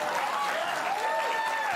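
An audience at a political commentary show breaks into steady, dense applause, a continuous wash of clapping with a faint tone running underneath.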